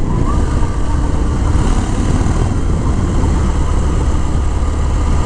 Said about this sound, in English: Classic Harley sound.